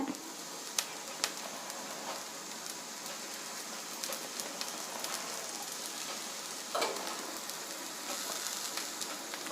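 Adai dosa made with lentil batter cooks in sesame oil on a gas stove at low flame, giving a steady broadband sizzle and crackle throughout, with a few sharp pops and spatters standing out.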